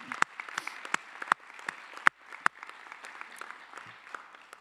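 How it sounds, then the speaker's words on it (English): A sparse, scattered applause at the LSU College of Art and Design fall commencement ceremony honours college staff, with individual claps standing out over a thin patter in a large hall. "So please give them a round of applause."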